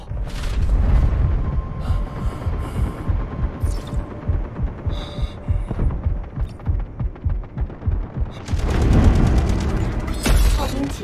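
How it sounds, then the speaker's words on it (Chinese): Artillery strike explosions in the Delta Force Mobile game, a long run of rapid rumbling booms and thuds rolling together, loud and dense, swelling into a bigger blast burst near the end. "收到，炮击即将抵达。"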